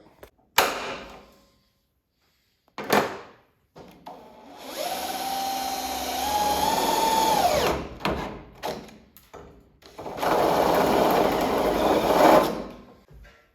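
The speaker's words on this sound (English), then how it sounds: "drill yourself a hole right there" A power drill whines in two long sustained runs, its pitch shifting as it bites into a car's metal hood, with short clunks and handling noises between.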